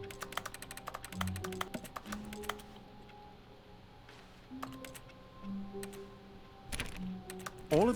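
A person vocally imitates keyboard typing, producing bursts of crisp clicking that stop, pause, then resume, set against soft sustained background tones.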